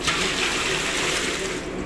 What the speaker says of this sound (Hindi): इसमें ये पानी ऐड किया जा रहा है।